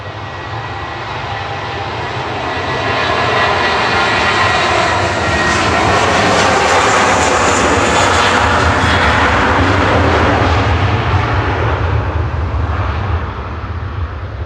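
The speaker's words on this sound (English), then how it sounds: "Lufthansa operated a 16-year-old DAISJ back over to Munich with flight 2505." A 16-year-old Lufthansa jet airliner departs Manchester Airport for Munich, its engine roar swelling from a distant rumble into a loud, sustained broadband thunder that holds steady before easing slightly near the end.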